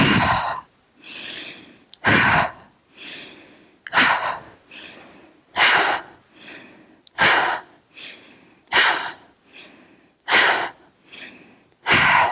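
Strong rhythmic breathing during yoga shoulder shrugs in a Kundalini-inspired morning session: sharp, audible inhales alternate with forceful exhales, about a dozen close breaths in steady succession with no talk.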